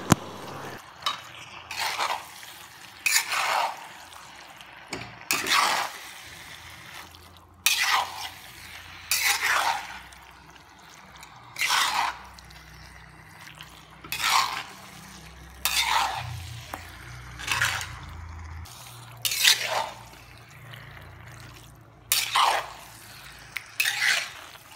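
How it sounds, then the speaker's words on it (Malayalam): Chicken being stirred and sautéed with masala in a pan for chicken curry: a steady sizzle broken by loud, rhythmic scraping strokes roughly every couple of seconds, close up with no talking. "അത് ഈ മസാലയെ കൂടെ നല്ലപോലെ വഴറ്റി ഇളക്കി യോജിപ്പിച്ച് വയ്ക്കുക"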